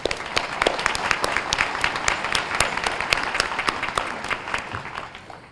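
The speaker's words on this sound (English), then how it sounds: "Let's give her a round of applause." Audience applause after thanks to a volunteer at a Take Back the Night event, a steady wash of many hands clapping with sharp individual claps standing out, sustained evenly throughout at moderate distance.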